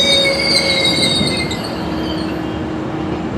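A train rolls past on nearby rails, loud and continuous, with high wheel squeal ringing over the rumble.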